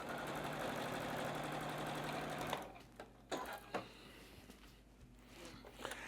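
A sewing machine stitches down a quilt block seam in a fast, steady whir for about two and a half seconds, then stops, leaving a few faint handling clicks and taps.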